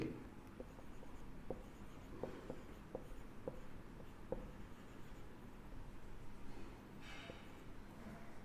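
Marker or chalk writing on a board during a physics lesson on length measurement, a steady scratchy scrawl of short strokes and taps running throughout, fairly faint and continuous with no talk.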